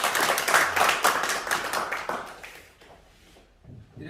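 Seminar audience at a Busan Red Cross hall applauding a youth federation chairman, dense clapping for about two and a half seconds that fades to quiet, then a brief faint burst at the end.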